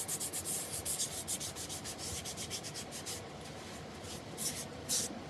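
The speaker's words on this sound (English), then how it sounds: "I'm going to clean my stamp off really well, using a little rubbing alcohol and a baby wipe." A rubber stamp is scrubbed clean with rubbing alcohol and a baby wipe, giving quick, close rubbing and swishing strokes in an uneven rhythm that pause briefly near the end.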